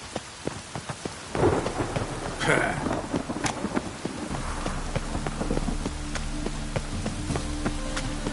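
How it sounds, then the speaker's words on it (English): Heavy rain pours steadily in the video game The Witcher 3 while a deep rumble of thunder rolls through, followed by constant dense patter of raindrops on surfaces. "Rain, I like rain."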